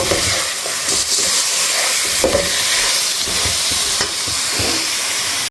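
Salted chicken sizzles hard in a hot pan while a utensil stirs it, with loud continuous frying hiss and scraping knocks, no talking.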